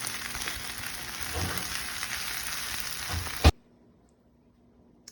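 Spinach and onions sauté in a hot pan with a steady, close sizzle and a couple of soft stirring bumps, then cut off sharply into near silence.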